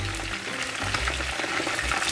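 Chicken legs fry in oil in a pan, sizzling and crackling steadily, a dense frying hiss with a low hum underneath.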